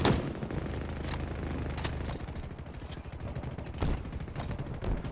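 Heavy gunfire rattles almost without pause through a Halo Infinite capture-the-flag match, loud and dense rounds with a few harder bursts, while voices talk underneath.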